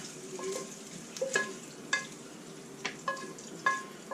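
Andouille sausage fries in rendered fat in a pan, giving a steady close hiss with scattered sharp pops and crackles throughout, no voices.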